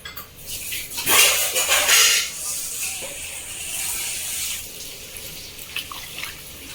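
Water splashes and pours into a freshly scrubbed iron kadai, a loud hissing gush followed by softer trickling and faint metallic clinks close by.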